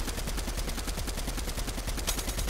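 Rapid repeated gunfire from a grenade launcher in a Fortnite Battle Royale match, a steady dense rhythm of loud shots and blasts running through the whole stretch with no talk over it.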